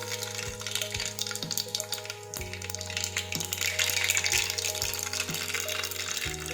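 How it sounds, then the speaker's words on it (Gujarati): Mustard seeds and cumin sizzle steadily in hot oil in a pan for a Gujarati eggplant, potato, tomato and pea curry, with a continuous crackling frying hiss over soft background music and no talking. "હવે આપણે તેમાં રાઈ અને જીરું નાખીશું."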